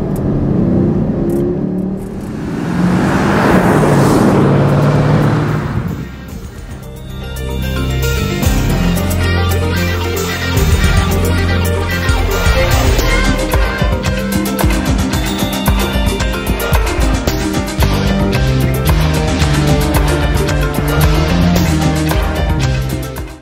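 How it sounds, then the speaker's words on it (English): A 2011 Porsche Cayenne S with a 400 hp V8 accelerating hard: a loud surge of engine roar that builds, briefly eases, then climbs again through sustained revving with a whirring drivetrain, close and alone. "400 horsepower V8 engine"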